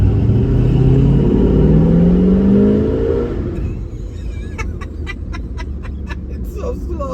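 A 1972 Chevrolet Nova with a straight six launching from a stop, its engine rising in pitch as it slowly accelerates, then dropping to a lower drone with clicking sounds near the end.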